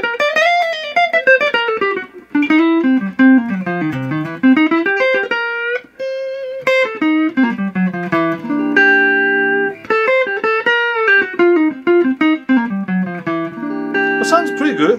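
Electric guitar played through a Fender Pro Reverb amplifier, a loud run of sustained, shifting notes and chords with ringing tones filling the whole stretch.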